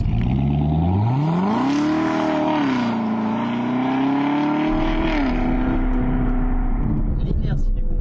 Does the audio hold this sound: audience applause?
no